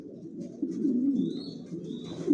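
A racer pigeon of a long-distance Janssen line, sitting on a pot nest with its chicks, gives soft, faint cooing that swells in the middle and again at the end, with no voices.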